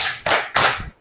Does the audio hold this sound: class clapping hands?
yes